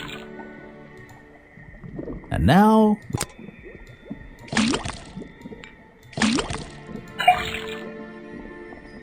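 Cartoonish water effects from a faucet in the video game Detective Grimoire: bubbly, warbling gurgles and drips in short separate bursts, with a voice speaking between them.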